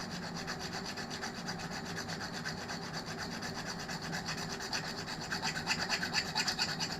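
Steady, rapid rasping of a file working over a clock dial during repairs, close and continuous with even back-and-forth strokes that grow slightly louder toward the end.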